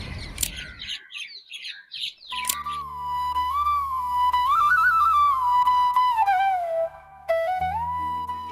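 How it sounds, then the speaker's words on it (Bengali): Birds call in a botanical garden during rain, with a few sharp chirps at first, then a long, clear, wavering whistled song that carries on steadily. "পাখিদের ডাকটা একবার শুধু শুনুন।"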